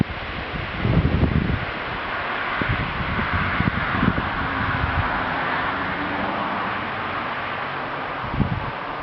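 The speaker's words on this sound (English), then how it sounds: "And I also like to add that it is extremely windy tonight." Strong night wind in Nova Scotia buffets the microphone with steady roaring gusts and low rumbling bursts throughout, loud and close.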